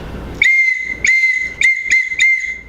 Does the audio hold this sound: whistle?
yes